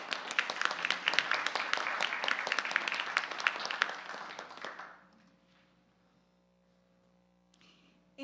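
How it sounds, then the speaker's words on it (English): An audience bursts into applause at a live-streamed gathering, a dense burst of many hands clapping that fades out after about five seconds, leaving a quiet hum. "let's give them a rousing applause"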